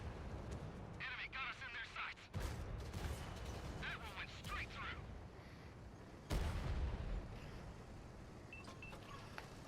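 A tank firing armor-piercing rounds in the World of Tanks video game: a few heavy, booming shots with reverberating tails at irregular intervals, with someone talking over the game sounds.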